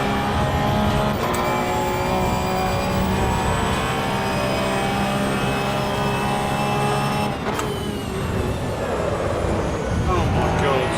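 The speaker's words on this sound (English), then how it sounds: "It's a downshift." A race car engine in Assetto Corsa Evo drones loudly and steadily, then a quick blip marks a downshift, while a person talks over the engine noise.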